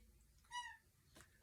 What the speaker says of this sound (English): I think that's my cat meowing.